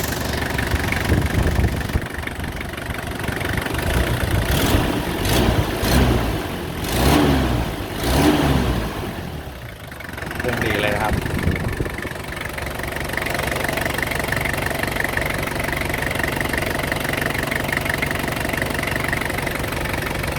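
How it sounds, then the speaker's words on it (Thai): A diesel engine of a 2000 Toyota Hilux Tiger Extra Cab 4x4 pickup idles steadily and close by, with a brief rise in revs partway through before settling back to an even, knocking idle. "มาฟัง เสียงเครื่องยนต์นะครับ เครื่องก็เดินเรียบเลยนะครับ"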